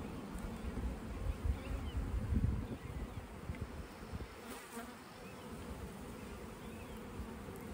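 Honey bees buzz softly inside an opened hive, a faint, continuous hum with small swells and fades, close by, with no voices.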